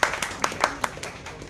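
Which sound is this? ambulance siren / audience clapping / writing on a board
audience clapping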